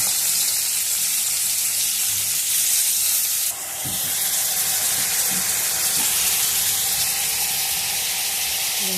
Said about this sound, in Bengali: এই পেঁয়াজটাকে লাল লাল করে ভেজে নেবো।